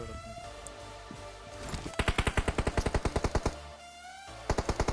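Rapid automatic gunfire in the BGMI battle game, with a few scattered shots followed by a fast, even burst of around fifteen rounds and a short final volley over steady background game noise.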